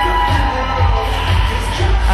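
A wrestling crowd cheers and roars for a wrestler, a loud, steady wash of voices with a few louder swells and no clear speech.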